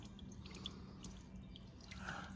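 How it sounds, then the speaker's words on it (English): Engine oil drains from a 2016 Lexus RX350 with the 2GR-FKS engine into a pan, a faint steady trickle with light dripping over a low background hum. "you can drain some oil there too"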